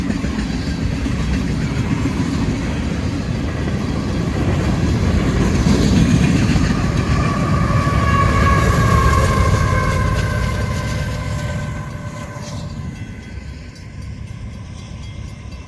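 A freight train's two rear locomotives rumble steadily past nearby, heavy wheels roaring and clattering, with engine tones rising in the middle before the noise eases off toward the end.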